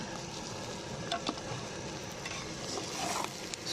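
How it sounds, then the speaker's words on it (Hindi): Spoon stirring rice with ghee and sugar in a pot over heat for sweet zarda, a steady low scraping and soft sizzle with faint clinks, close and continuous. "अभी इसको इसके अंदर हिला के चमचा अच्छी तरह"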